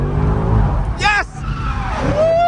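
A Corvette drifts with its tires squealing in loud screeching bursts over steady engine roar, while people shout and talk excitedly inside the car.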